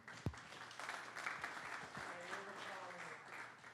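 Audience applause welcoming William Kennedy to a Go programming talk, fairly quiet and distant clapping from a modest crowd, opening with a sharp thump and carrying a faint voice partway through.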